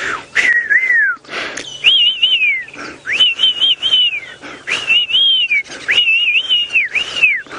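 A human voice imitates a whistling duck call, producing a series of clear, loud whistled phrases that rise and waver, repeated about six times with short gaps and breathy noise between them.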